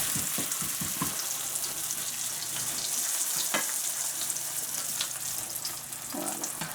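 Egg mixture sizzles and fries in a pan in a home kitchen, a soft, steady crackle with light clicks of a spatula, quiet and close, with no talk.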